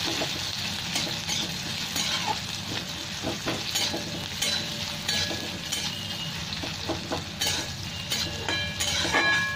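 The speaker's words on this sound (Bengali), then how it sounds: "মশলাটা ভাজা ভাজা হয়ে গেছে, এই পেঁয়াজটা একটু লাল লাল হবে" Onions frying with spices in a pan, giving a steady, close sizzle with intermittent stirring scrapes throughout, no talking.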